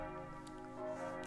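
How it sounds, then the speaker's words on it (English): A loud bell rings in the visual novel game Mizari Loves Company, a sustained resonant tone with layered overtones that holds steady and swells slightly near the end, heard alone. "My daydream was drowned out by the sound of a loud ringing bell."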